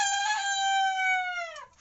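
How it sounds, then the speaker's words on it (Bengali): A Fayoumi chicken lets out one loud, drawn-out tonal call lasting nearly two seconds, steady at first and then dropping and breaking off at the end, with no other sound around it. "ফাউমি মুরগির এই প্রজাতি যারা ক্ষুদ্র পরিসরে পালন করতে চান তারা শুরু করতে পারেন"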